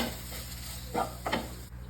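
Chicken being sautéed in a pan for chicken cutlets, a soft steady sizzle with two brief stirring scrapes near the end, quiet and close.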